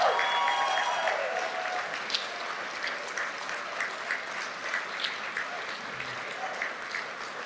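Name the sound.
audience applause for Hall of Fame inductees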